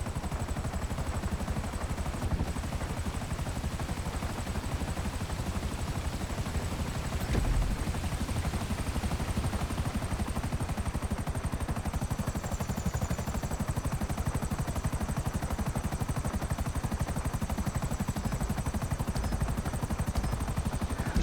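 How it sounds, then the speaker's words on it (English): A video game helicopter's rotor drones steadily throughout with a constant whine, loud and continuous, with no voices. "I do not want to crash the helicopter in the water."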